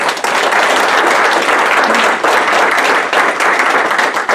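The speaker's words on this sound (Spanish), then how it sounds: "¿Cuánto le damos un aplauso al Señor?" Loud, dense applause from a church congregation honoring the Lord, steady and sustained throughout with many hands clapping at once, close and filling the room.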